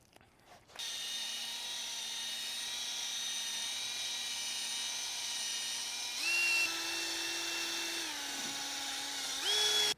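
A power sander with a P800 sanding disc works on a yellowed car headlight, a steady high-pitched whine that runs alone and shifts pitch a couple of times as the pressure changes.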